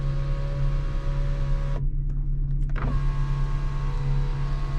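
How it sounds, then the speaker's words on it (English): Electric sunroof motor on a Jaguar XJ6 whirring steadily for about a second, then stopping with a soft clunk, over a constant engine idle hum. "Hey now, we have the working sunroof,"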